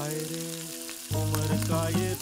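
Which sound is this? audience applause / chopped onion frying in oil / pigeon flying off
chopped onion frying in oil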